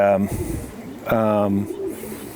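A racing pigeon, a check slate cock of Super Champion bloodline, coos twice up close in two rounded, throaty bursts with a short pause between them, alone with no talk over it.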